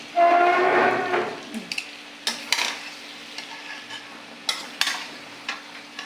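Taro stolons added to a curry with rohu fish frying in a pan on an electric stove: a loud hiss as they drop in, followed by a quieter sizzle with intermittent scraping stirs.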